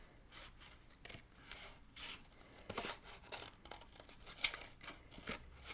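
Scissors snip around the outline of a paper relief craft cutout: close, quiet, irregular cuts and crisp paper rustles, with several sharper snips spaced through the passage and no voice.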